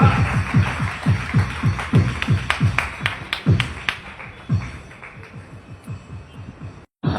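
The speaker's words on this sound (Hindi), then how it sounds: "ताली बजाइए, वेलकम करेंगे।" Church congregation claps along at a pastor's Hindi sermon service, a steady rhythmic beat of many hands that continues throughout, loud and close at first and gradually thinning toward the end.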